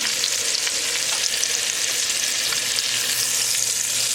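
Pork chops with the fat on frying in a pan over high flame, a loud, even, continuous sizzle up close with no voices.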